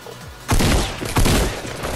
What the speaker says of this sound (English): Hold on, I'll throw a grenade over there.